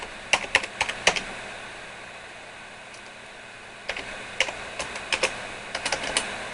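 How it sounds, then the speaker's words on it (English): Keys clatter in two short bursts of typing on a computer keyboard attached to a 486SX-20MHz PC, separated by a quiet pause, close and fairly soft. "keep typing with one hand"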